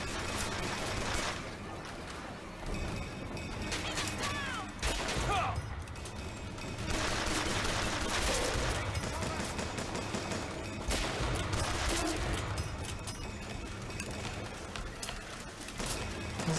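Sustained gunfire in the video game Bioshock Infinite, a dense busy stretch of shots and impacts with bursts recurring throughout, mixed with game sounds and occasional talking over the action.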